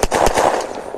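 Gunfire in the video game Unturned, a quick burst of several sharp shots in rapid rhythm at the start, then fading into a brief reverberant tail.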